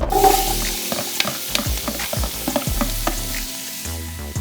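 Diced mirepoix vegetables sizzle in rendered bacon fat in a hot pan, a close, steady frying crackle broken by intermittent stirring knocks and clatters, with no voices.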